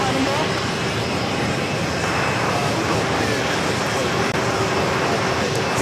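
An airliner taxiing toward a gate at JFK airport produces a constant, loud jet-engine drone with a faint steady whine, unbroken for about six seconds, while people talk over it.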